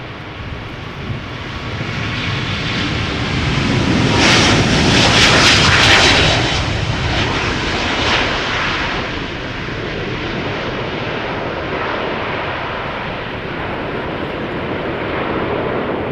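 A Singapore Airlines Airbus A350 thunders through its takeoff run at Schiphol's Polderbaan, a loud, broad jet roar that swells to a peak around five seconds, then holds steady as the aircraft climbs away.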